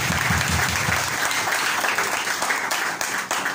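A church congregation bursts into loud, sustained applause, dense clapping from many hands filling the room for several seconds before it starts to thin near the end.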